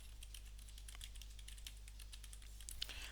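Soft, steady typing on a computer keyboard while writing HTML code, with quick, even keystrokes clicking through a low background hum and no talking.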